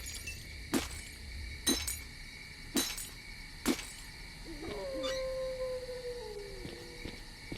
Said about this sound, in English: I feel like that glass should not shatter from a knife